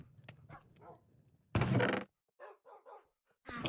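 Dogs bark in the survival game Survival War 3, several short close barks in quick bursts, one loud and longer, separated by brief silences.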